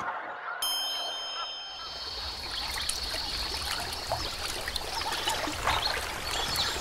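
Water trickling and flowing along a river, a steady bright babbling stream that comes in after a brief ringing tone at the start, continuous and fairly close with small splashing detail throughout.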